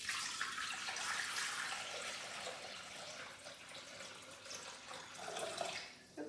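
Water pours steadily into a Thermomix bowl, a litre being measured for steaming salmon, rice and broccoli, with a continuous splashing rush that runs for several seconds, close and alone, then tapers off at the end.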